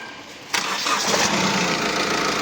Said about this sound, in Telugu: ఒకసారి ఇంజిన్ స్టార్ట్ చేసి చూపిస్తాను, చూడండి